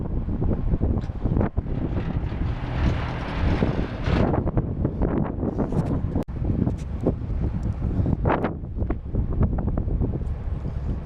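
Strong, cold wind blasts across an outdoor microphone, a loud continuous roaring buffet with gusty surges and no talking.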